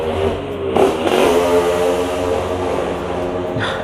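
A 2015 Honda CBR 150R K45A sport motorcycle with a modified setup revs loudly up close, its engine rising sharply and holding a strong, steady drone before easing off, with no talking.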